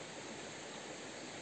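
Stream water flowing at night near a waterfall makes a steady, dense broadband rush that holds at an even level throughout, with no voices.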